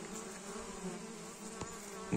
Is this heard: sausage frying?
no